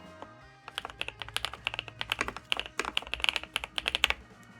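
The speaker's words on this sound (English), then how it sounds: "This is a typist keyboard that has gasket fit keys for a very smooth typing" Rapid, uneven keystrokes on a Kissant 75% gasket-mount mechanical keyboard, bright crisp clacks in quick bursts, close and clear with no talking.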